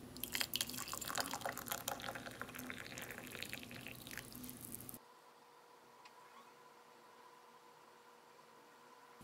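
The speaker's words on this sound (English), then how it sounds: "let's see what happens when we add the hot water" Hot water is poured into a Desert Storm-themed coffee mug, a close, splashy rushing stream for about five seconds that stops abruptly, leaving a quiet room.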